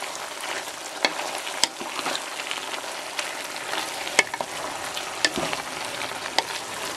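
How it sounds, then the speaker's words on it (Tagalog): Chop suey vegetables, including white and purple cauliflower, sizzle in sauce in a pan as they are stirred. A steady frying hiss runs throughout, broken by occasional sharp utensil clinks, close and without speech. "haluin natin para magpantay yung pagkakatikim ng sauce."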